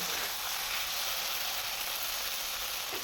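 Steady close hiss of a hot pan of mustard-sauced rohu fish after water is poured in, a dense even sizzle and steam that holds level throughout with no voices.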